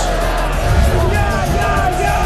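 Basketball arena crowd cheering and whooping for the Toronto Raptors during a tied overtime game, a loud continuous roar of many voices filling the space.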